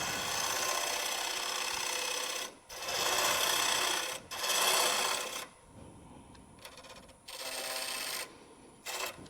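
A wood lathe spins up with a spindle gouge, giving loud, steady broadband bursts of cutting noise that start and stop in several passes, separated by brief quieter gaps.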